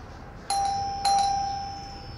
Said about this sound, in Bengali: খানিকটা দুশ্চিন্তা নিয়ে কলিং বেল বাজালাম।